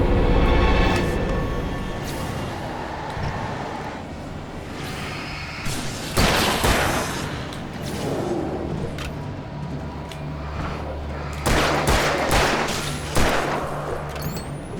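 Gunfire in the video game Alan Wake Remastered: several loud shots spaced across a busy game soundscape, with a bright burst near the middle and another cluster later, over a steady low rumble.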